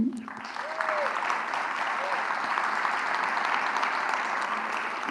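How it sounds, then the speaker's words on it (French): A theatre audience at a cultural season launch breaks into dense, sustained applause that holds steady and fairly loud, with a voice briefly audible near the start. "Donc on peut les applaudir."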